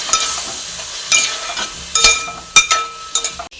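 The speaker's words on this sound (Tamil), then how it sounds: "நெய் ஊற்றி கொஞ்சம் உருகி வந்தோடனே நம்ம கழுவி வச்சுருக்கோம் பார்த்தீங்களா இந்த அடை இதை சேர்த்து நல்லா வதக்கிக்கிறோம்" Rice ada for palada payasam sautéing in melted ghee in a pan, a steady close sizzle broken by several sharp scraping stirs and light clinks of a spoon, with no talking.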